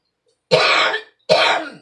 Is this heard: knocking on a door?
no